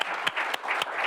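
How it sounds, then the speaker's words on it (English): Applause at a military child recognition ceremony: a dense wash of many hands clapping, with a few sharper individual claps standing out, steady and fairly close throughout the brief moment. "can we just have another round of applause"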